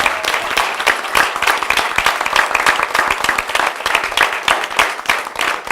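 Applause at a city council budget presentation honoring the budget staff, many distinct hand claps in a brisk, uneven rhythm, fairly loud and sustained throughout.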